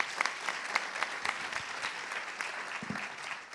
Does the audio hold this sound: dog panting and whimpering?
no